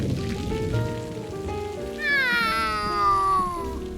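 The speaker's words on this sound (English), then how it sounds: "It's just a little rain." A cat meows over a soft, steady patter of rain, with the meow rising clearly in the second half of the clip.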